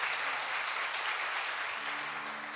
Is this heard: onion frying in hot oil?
no